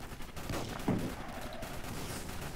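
A tank in the Roblox game Armored Patrol fires an armor-piercing shot, a single sharp blast heard faintly in the middle against a steady background wash.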